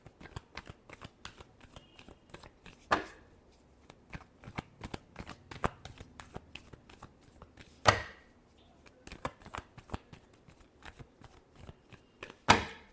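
Tarot cards are shuffled by hand in a steady run of quick riffling taps and slaps, with a few louder snaps where the deck is squared, close and alone.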